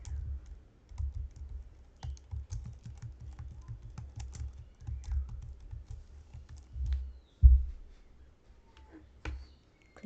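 Typing on a computer keyboard while entering a project name for a console app in Visual Studio 2022: a quiet, steady run of soft key clicks with a few louder taps near the end, alone without talk.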